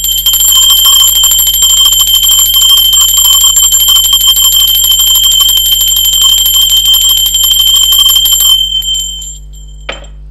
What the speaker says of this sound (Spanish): va campana, seres divinos